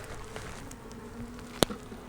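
Honey bees buzz faintly and steadily in an open hive that holds a queen, with a brief sharp knock partway through.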